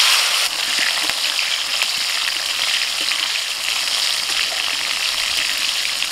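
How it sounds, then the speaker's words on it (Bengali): Tomato hits hot mustard oil already seasoned with whole cumin, dried red chillies and bay leaves, giving a loud, steady, close sizzle that holds evenly throughout, with faint occasional ticks and no talking. "এবার দিচ্ছি টমেটো।"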